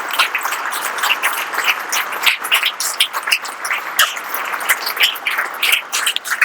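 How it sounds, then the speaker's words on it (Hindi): Students at a school clap for their teachers in a sustained burst of dense, steady applause with no talk over it. "आप अपने टीचर्स के लिए आप एक बार शानदार तालियां बजा दें"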